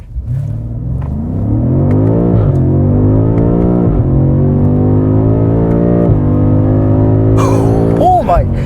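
A 2021 BMW M5 Competition launching without launch control in manual mode, its engine roaring loudly and climbing steadily in pitch through the gear, with a brief dip at a shift and a sharp click and squeal near the end.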